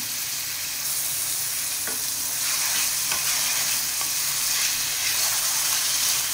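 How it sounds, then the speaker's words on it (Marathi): Onion frying in hot oil in a home kitchen while cooking a potato and fenugreek leaf dish, a steady close hiss of sizzling with occasional scraping stirs of a spoon against the pan and no talking. "तेलात फ्राय करून घेऊया। कांदा जरा मऊ होत आला"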